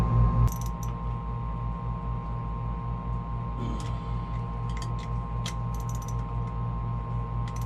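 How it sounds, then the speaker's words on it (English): Fuel injector hold-down bolts on a Ford Lehman 135 engine being tightened with a ratchet, giving a steady run of small clicking pawl ticks over a constant low hum, close and fairly quiet. "Then go ahead and tighten the bolts down that hold the fuel injector in place."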